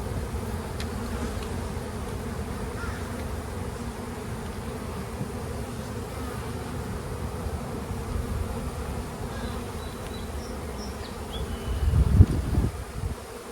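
Honeybees swarm over an open hive frame during a hands-on beekeeping class, a steady dense buzzing hum running throughout, with a brief louder bump of handling noise near the end.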